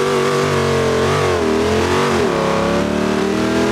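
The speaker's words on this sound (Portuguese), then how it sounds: "Que queima pneu, queima pneu." A Dodge Ram TR4 engine in the BeamNG.Drive racing game revs hard and steadily during a tire burnout, a loud, close, sustained mechanical roar with a shifting pitch.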